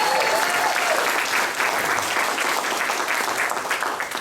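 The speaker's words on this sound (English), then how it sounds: "Another big round of applause." Loud, sustained applause from an audience at a 2024 campaign kickoff event, dense clapping throughout with a few voices mixed in.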